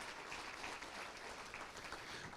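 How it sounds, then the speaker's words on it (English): Audience at a school district star awards gala breaks into steady, dense applause, a continuous wash of clapping that fills the room without pause for the whole stretch. "Let's give them a round of applause."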